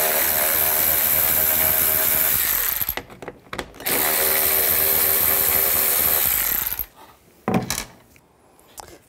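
A power tool fitted with a 7mm socket drives out door panel screws on a 2007-13 Chevy Avalanche. Two sustained whirring runs with a short pause between them are followed by brief clicks and handling noise, close up.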